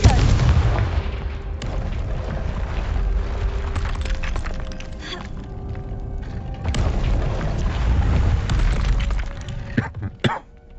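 A Confringo curse in the Hogwarts Legacy video game sets off booming explosions and cracking impacts, loud and repeated in bursts amid game noise, with a faint voice briefly heard.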